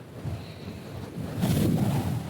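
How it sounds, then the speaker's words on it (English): Wind sound effect for a short film's foley, a steady broadband whoosh that swells louder in the second half, alone with no talk. "There's the wind."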